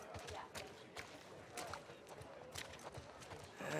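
Horse hooves clip-clopping at a slow walking pace in The Last of Us Part 2, soft steady thuds close by, with light background ambience and a brief rise in noise near the end.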